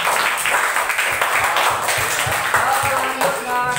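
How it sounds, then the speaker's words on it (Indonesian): A classroom group gives a round of applause, steady scattered hand claps running throughout at moderate volume, mixed with chatter and voices in the room. "Beri tepuk tangan"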